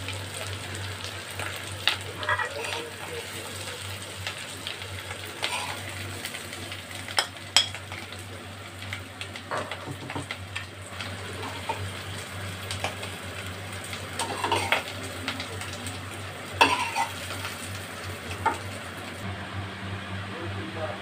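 Spices fry in a pan for a Bengali banana-flower curry, a faint steady sizzle with occasional soft scrapes and clinks of stirring close by, with no talking.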